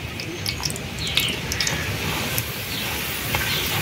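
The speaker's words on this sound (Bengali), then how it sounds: "রোলের রুটিটা ভাজা হয়ে গেছে" Roll flatbread frying in oil in a pan for a potato roll, a soft steady sizzle with faint crackles throughout, close and fairly quiet with no talk.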